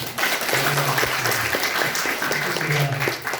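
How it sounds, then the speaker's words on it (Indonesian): A crowd of high school students at an Indonesian state school claps together in a brief, dense burst of applause that fills the space and holds steady before tapering off, with faint voices mixed in. "Oke, tepuk tangan."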